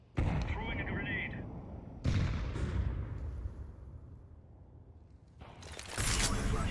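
Grenades and gunfire go off in a Counter-Strike 2 competitive match, with loud, sharp blasts near the start, around two seconds and again near six seconds, each trailing into a rumbling decay.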